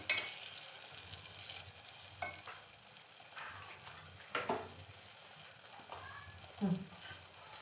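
Tomatoes frying in a pan for Vidarbha-style chana dal curry: a low, steady sizzle broken by several sharp clinks and scrapes of stirring, fairly close, with no talking.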